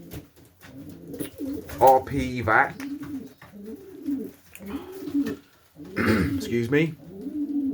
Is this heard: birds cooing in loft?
yes